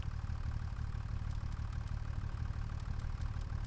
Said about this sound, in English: And here we are, here's our new tractor.